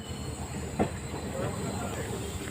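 A train pulls out of Tiptur station in Karnataka with a steady, fairly quiet rolling rumble, a brief higher squeal or clank rising out of it near the start.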